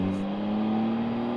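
Yamaha MT-09 Y-AMT motorcycle pulling away under throttle, a steady close engine drone with a strong low tone, brief and continuous.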